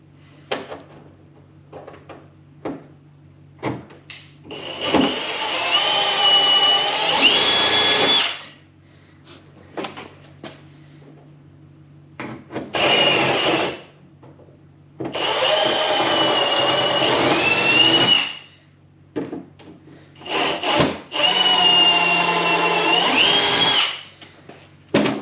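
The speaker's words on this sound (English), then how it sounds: "I'm going to drill a hole into the plastic so I can enlarge a little bit so the rivet will fit down inside it." A power drill boring a hole into a plastic tunnel protector for a Ski-Doo REV MXZ 550F snowmobile, so a rivet will fit. Four separate loud whining bursts of several seconds each, with short pauses and small clicks between them.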